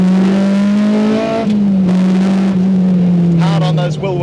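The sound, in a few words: K20 engine-swapped Honda EG Civic accelerating loudly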